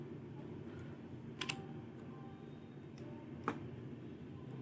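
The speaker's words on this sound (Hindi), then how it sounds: "अब जैसे ही एंटर करेंगे" Two sharp, isolated keystrokes on a computer keyboard, including the enter key, sound a couple of seconds apart over a quiet room hum, with no talking.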